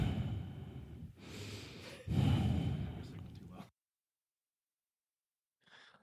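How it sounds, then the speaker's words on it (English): Breathing close into a microphone: several loud, breathy exhales and inhales over a few seconds, then silence before a faint breath returns at the end. "if you can hear me breathing when I have my face in the mic"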